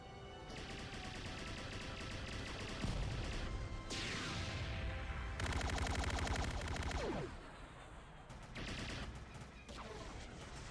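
Rapid automatic gunfire and laser-like blaster bursts in a Roblox Battle of Kashyyyk battle, dense fusillades with whooshing sweeps and short pauses, loud and continuous over game sound.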